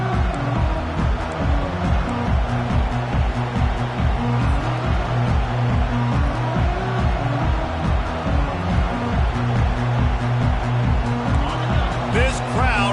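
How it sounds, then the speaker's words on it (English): A loud stadium crowd at a college football game roars continuously, dense and steady throughout, while a commentator talks over the din. "This crowd bringing an ear-splitting welcome to their visitors."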